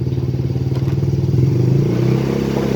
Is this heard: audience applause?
no